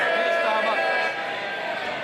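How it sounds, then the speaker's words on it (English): MPs cheering in the House of Commons: a dense, sustained roar of many voices that fills the chamber and eases slightly partway through. "the sound you hear is them cheering the Prime Minister"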